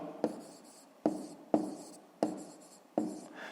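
Pen strokes on paper while writing out a fifth-grade math exercise, five distinct scratchy bursts at irregular intervals, each fading quickly, close and quiet with no talk.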